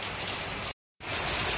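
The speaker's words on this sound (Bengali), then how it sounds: "ওইদিকে বৃষ্টি হইতেছে বাইরে" Heavy rain pours outside a home on a wet day, a dense steady hiss of drops hitting surfaces that cuts out briefly to silence midway, then returns as loud as before.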